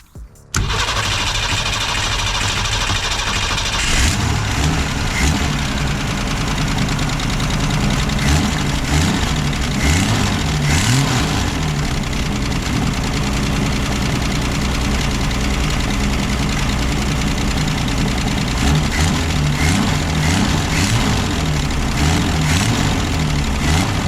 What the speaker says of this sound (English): Let's see if it'll crank up and stay running.